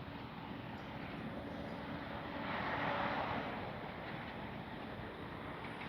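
Kavan Bristell B-23 RC airplane on approach to land on a runway, its steady motor drone filling the whole stretch, swelling slightly midway before easing back off. No one speaks.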